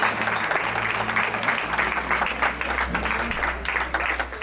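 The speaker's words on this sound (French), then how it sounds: "Vous pouvez l'applaudir encore." A wedding audience applauds with dense, steady clapping that fills the room throughout, with a low hum beneath it and faint voices mixed in.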